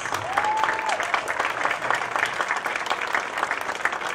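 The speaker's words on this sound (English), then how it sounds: "Let's give all the 2015 seniors a round of applause." A crowd applauds the seniors at a boys lacrosse senior night, steady clapping and some cheering for about four seconds, with a brief whistle-like tone near the start.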